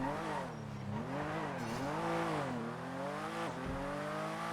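A car in NoPixel GTA drives down the road, its engine tone rising and falling with revs in a steady, moderately quiet hum, alone without talk.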